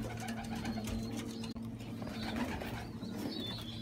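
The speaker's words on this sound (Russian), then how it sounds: "Тут голуби выходят." Pigeons leave their loft with wings flapping, mixed with soft coos and bird calls. A low steady hum runs underneath, and the whole sound is fairly quiet and continuous.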